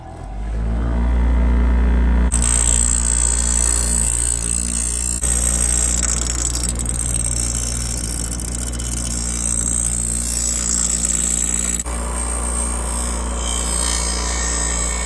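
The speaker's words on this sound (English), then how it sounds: "So I'm gonna use a bench grinder like that one right there." A bench grinder works against a knife tang, giving a loud, sustained harsh grinding whir that shifts in tone a few times across the stretch, with no talking.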